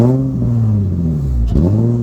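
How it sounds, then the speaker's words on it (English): An Infiniti FX35 engine revs with a deep, throaty exhaust note from a removed muffler, rising and dipping once in a short, loud burst. "I do love the sound of these cars."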